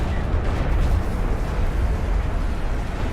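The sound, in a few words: siege cruiser artillery barrage in a strategy video game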